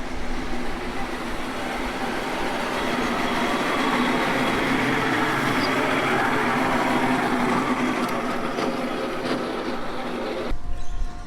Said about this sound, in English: every last Sunday of the month they have their miniature steam trains running down here